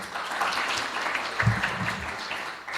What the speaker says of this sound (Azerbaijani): Sizin alqışlarınızla Sumaya xanımı dəvət edək